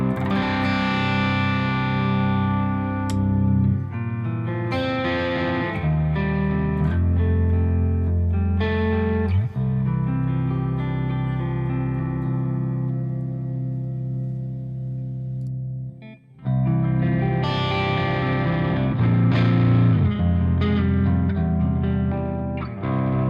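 A Chapman Relic electric guitar running through the Archetype Rabea plugin's default preset in EL34 mode, with heavily distorted, sustained chords and riffs played loud and continuous, broken by one brief silent gap before the playing resumes.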